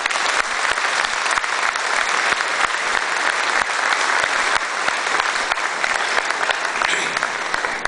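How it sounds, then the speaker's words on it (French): An audience claps warmly for watercolour artist Brigitte Saget, a loud, even wash of many hands that holds steady throughout without talk breaking through. "nous pouvons applaudir son talent et sa générosité"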